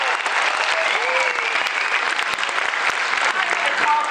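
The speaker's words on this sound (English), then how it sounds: "Come on, that's worth a bigger applause." Convention audience at a sci-fi Q&A in Malmö breaks into sustained, dense applause from a large crowd, steady and loud throughout with a few voices mixed in.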